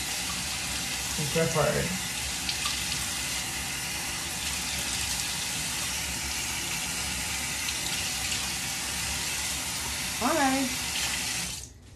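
A bathroom tap runs steadily with water splashing into a sink during a nighttime face-rinsing routine, continuous and close, while someone speaks briefly near the start and near the end.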